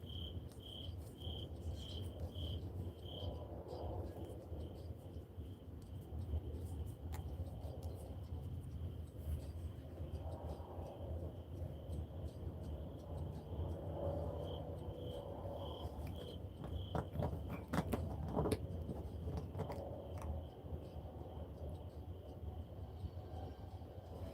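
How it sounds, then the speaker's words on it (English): Crickets chirp steadily outdoors, a thin high pulsing trill that runs through the whole stretch over a low rumbling background, with a brief louder rustle near the end. "I'm outside, so you're going to hear crickets."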